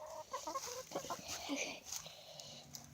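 Backyard chickens cluck and chatter softly at close range, a few quick murmured clucks and short calls spread over a few seconds, fairly faint overall.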